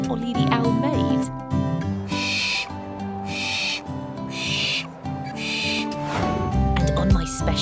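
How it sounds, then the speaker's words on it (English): An animated owl calls in a children's educational cartoon, with repeated hooting and hissing bursts over a musical background, voices speaking among the sounds. "Did you hear the sound that Ollie the owl made?"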